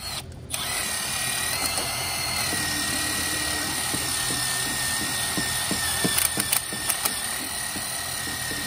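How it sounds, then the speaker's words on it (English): A small impact driver spins a brush to scrub carbon from the inside walls of a Mercedes Sprinter EGR valve, giving a steady close whirring buzz with brief scraping bursts near the end. "I've got a little impact driver here with a brush on it, and I usually just get in there and just kind of scrub the inside of those walls down a little bit."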